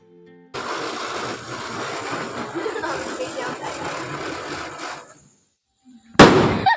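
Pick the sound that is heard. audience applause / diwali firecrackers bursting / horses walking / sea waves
diwali firecrackers bursting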